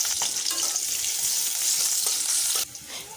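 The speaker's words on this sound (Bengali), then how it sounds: "দিয়ে দিচ্ছি তেল, দিয়ে দিচ্ছি কাঁচামরিচ আর পেঁয়াজ" Green chilies and onion sizzle in hot oil in a wok on a stove, a loud, steady, close frying hiss that drops abruptly near the end, with no talking.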